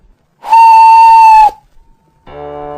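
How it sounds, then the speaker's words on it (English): A loud, sustained steam whistle blast lasting about a second, followed after a brief pause by a second, lower whistle tone. "Presently, he heard a whistle."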